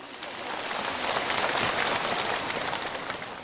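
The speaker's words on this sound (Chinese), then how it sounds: "让我们掌声欢迎。" An audience at a Buddhist sharing gathering applauds, a dense, even wash of clapping that builds slightly and holds steady for several seconds.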